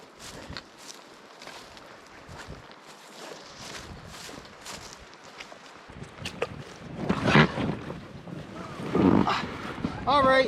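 Wind gusting across open backcountry near a pond, a steady rough rumble that builds into stronger buffets toward the end, with someone speaking briefly.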